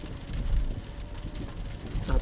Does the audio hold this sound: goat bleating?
no